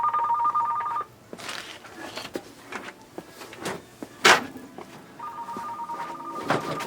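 A telephone rings in an electronics shop, two bursts of electronic trilling separated by a quiet stretch with a few knocks and clatters.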